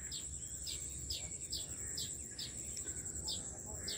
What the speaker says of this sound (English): They are beautiful tiny birds.